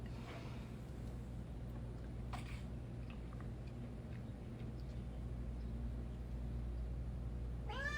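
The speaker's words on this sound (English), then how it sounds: "My cat." A house cat meows once near the end, a short rising call over a steady low indoor hum, with no talk alongside.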